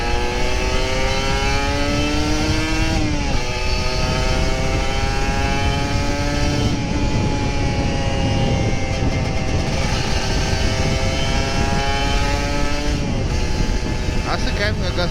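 A Kawasaki Ninja RR 150 sport motorcycle accelerates hard on an open road during a morning ride. The engine note climbs in loud, close pulls with several brief dips at gear shifts, over constant wind rush.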